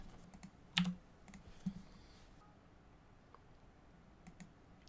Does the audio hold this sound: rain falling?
no